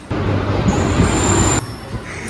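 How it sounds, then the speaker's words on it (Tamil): A passenger train rolling into a station, with a loud, steady rumble of wheels and carriages, a high metallic squeal above it, then the noise drops a little as the train slows. "பார்த்தீங்கன்னா நம்ம போகிற ட்ரெயின் வந்துகிட்டே இருக்கு"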